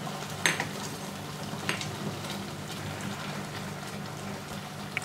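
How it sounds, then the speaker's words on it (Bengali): Tamarind pickle mixed with ground roasted spices being stirred in a pan, a steady soft scraping and sizzling texture with a couple of sharper clacks of the spoon near the start. "এবার ভালো করে মিশিয়ে দিচ্ছি।"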